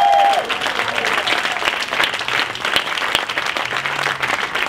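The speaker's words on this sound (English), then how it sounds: "Give Paul a round of applause in the Black Cultural Archives." Audience applause fills a room at the Black Cultural Archives during a speech event, steady dense clapping from a crowd throughout, loud and continuous with no talk over it.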